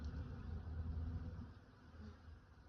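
Faint, soft buzzing of honeybees returning to the hive, a low hum that wavers slightly and fades a little partway through.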